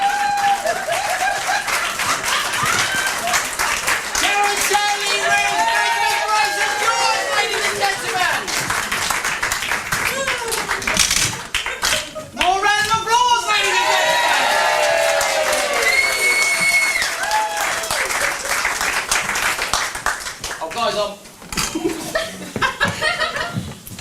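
Audience at a comedy stage show claps, cheers and laughs over sustained crowd noise, with performers' voices and laughter running through it and the applause swelling in the middle before tapering off.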